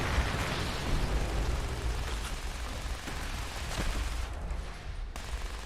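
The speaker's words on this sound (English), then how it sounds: "Lots of explosions." Repeated explosions and bursts in Fallout 76 during a custom-world PvP session on Xbox as a player's camp, including crafting tables and a power armor station, is attacked; a dense, continuous rumble of blasts and pops with no talking.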